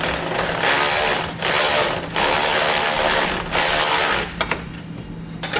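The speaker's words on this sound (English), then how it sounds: "I'm going to come back using a 16mm socket and a 17mm wrench, and I'm going to snug up these bolts" Ratchet wrench with a 16mm socket snugging grille guard mounting bolts on a 2004 Chevrolet Blazer, giving steady loud mechanical clicking in several bursts with short pauses between strokes.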